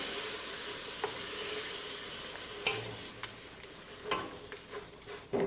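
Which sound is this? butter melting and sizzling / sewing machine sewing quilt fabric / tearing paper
butter melting and sizzling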